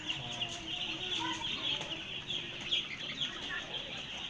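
Chickens cluck on a poultry farm, a faint, continuous murmur of hens with scattered higher chirps in the background.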